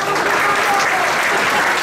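Audience applauding at a summer awards ceremony, a steady dense wash of clapping filling the whole moment, loud and close, with faint voices mixed underneath.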